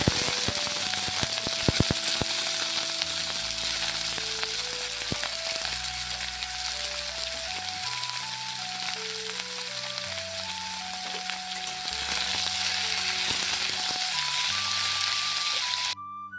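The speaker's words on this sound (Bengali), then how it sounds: "এদিকে এখন পেঁয়াজগুলি ভাজাটা বসিয়ে দিচ্ছি" Onions frying steadily in a pan on a home kitchen stove, a constant close sizzle running the whole way through, with faint clinks now and then and background music over it.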